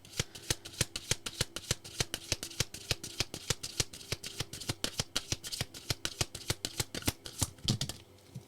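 Tarot cards being shuffled in a steady run of crisp, rapid flicks and riffles, close and alone, ending in a brief pause.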